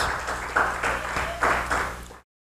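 Congregation at a church service clapping together, a short burst of applause with a few rhythmic swells and no talking over it.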